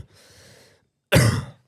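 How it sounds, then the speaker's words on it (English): A brief faint breathy rasp is followed by one loud, sharp cough right into the microphone during a podcast recording. "We're fucking coughing the mic again."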